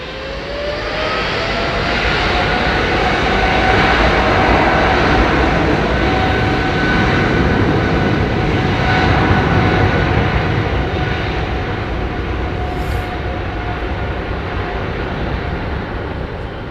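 An old airliner's engines roar steadily at London Heathrow, a loud sustained broadband rumble with a rising whine, swelling and easing slightly over time with no talk.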